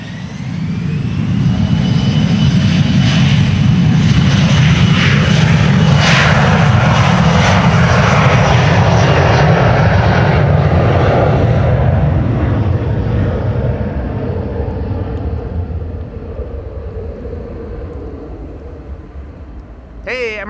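A departing aircraft at Amsterdam Schiphol gives a loud, close roaring jet engine rumble that peaks early, then slowly fades into the distance, with a voice speaking near the end.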